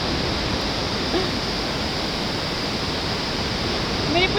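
Loud, steady rush of the Bhagirathi river in the Himalayas near Uttarkashi, a dense broadband roar of fast water that fills the whole clip with no pauses.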